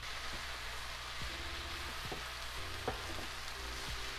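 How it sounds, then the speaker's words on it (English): Cabbage frying in a pan, a steady soft sizzle with faint crackles and pops throughout, fairly quiet and with no voices. "I'm letting this continue to fry and do its thing"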